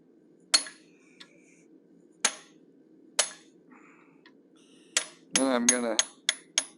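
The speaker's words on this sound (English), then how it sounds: "Right now I'm using approximately a 3/16 inch fuller. I'm going to go vertically up the center of his forehead." A hammer strikes a 3/16 inch fuller into hot steel during forging of a cougar or lynx head: sharp, ringing metallic blows, a few spaced singly, then a quick burst of four or five, with a brief voice in between.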